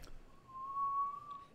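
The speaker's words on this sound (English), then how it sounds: "I like to whistle." A single person whistles one steady, sustained note, quiet and close, against a faint background.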